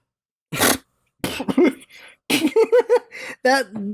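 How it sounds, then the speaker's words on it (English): Several harsh coughs in short bursts, close to the microphone, with a few separate coughing fits spread across a few seconds and brief quiet gaps between them. "Every now and then I get a cough."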